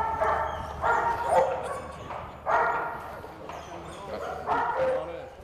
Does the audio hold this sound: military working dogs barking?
yes